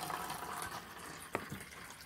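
Water pours into a pot for boiling saba bananas, a steady broadband splashing stream close by with a brief clank of the pot partway through, no talking.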